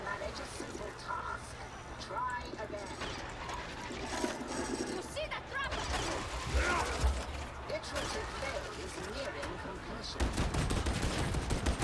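Gunfire in the video game Darktide, playing as an Ogryn, with bursts of rapid shots and mechanical clatter mixed with chaotic combat noise, heavier toward the end, under a speaking voice.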